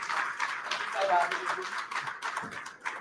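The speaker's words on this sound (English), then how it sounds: "Can we get a round of applause?" Conference audience clapping briefly, scattered, moderately faint claps in a room, with some talk mixed in.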